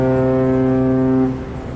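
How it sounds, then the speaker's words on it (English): A ship's deep horn sounds on a river as the vessel comes upriver, one long sustained harmonic blast held loud and steady for over a second before cutting off and leaving a faint tail. "There's a ship coming upriver right now, laying on the horns."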